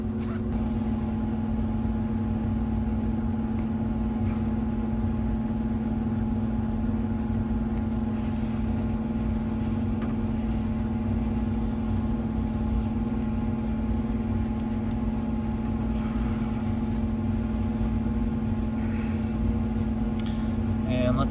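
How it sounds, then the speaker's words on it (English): A gas furnace blower motor, wired straight to power during troubleshooting, runs with a constant low hum and steady rumble, loud and close with no letup. "hook this up directly to the motor and then plug it in and see if it comes on"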